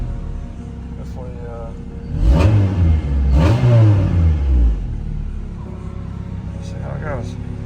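A 1999 Honda Civic LX with a swapped B20V engine accelerates on a test drive, its engine revving up through two strong rising pulls from inside the cabin, then settling to a steady hum as a voice talks.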